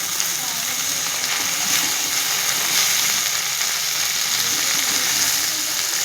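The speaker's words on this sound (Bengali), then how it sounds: "এখন টমেটোগুলোকে নতুন নতুন করে ফাটিয়ে নিচ্ছি যাতে মিশে যায়" Tomatoes frying in a pan give a steady, loud, hissing sizzle while being mashed, with someone talking over it the whole time.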